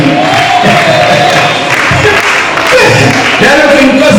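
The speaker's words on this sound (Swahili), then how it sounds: "Pigeni makofi mengi kwa ajili ya ndani." A church congregation bursting into loud applause and cheering during a sermon, a dense, continuous roar of clapping hands and raised voices filling the room close up.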